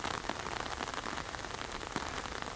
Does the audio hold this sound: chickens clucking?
no